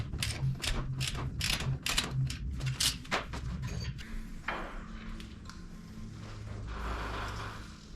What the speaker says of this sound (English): you just want to make sure you torque it down to the proper torque spec with a torque wrench